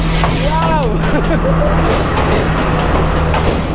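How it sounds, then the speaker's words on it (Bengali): A train pulls into a railway station in Sri Lanka with a loud low rumble and a brief rising-falling whistle or brake squeal, while people on the platform talk over it. "ফাইনালি ট্রেন আসতেছে"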